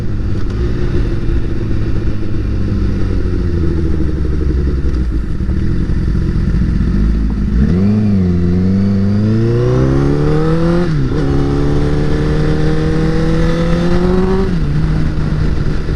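A 2015 Honda CBR1000RR Fireblade sport bike idles with a steady, loud engine hum, then revs up with rising, falling pitch sweeps and several sustained higher-pitched revs, close and without talk.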